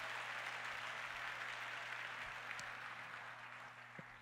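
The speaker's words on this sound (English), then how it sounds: "give the Lord a hand clap of praise on today" Congregation clapping in praise during a church service, a soft, steady wash of many hands in a large room, faint and continuous with a low hum underneath, fading slightly at the end.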